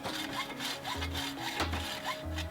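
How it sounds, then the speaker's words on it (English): A hand hacksaw cuts through an aluminum box section to form a U-channel, with steady back-and-forth rasping strokes at an even rhythm, close and continuous. "the hacksaw worked really well for this long cut"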